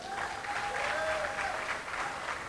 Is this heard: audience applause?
yes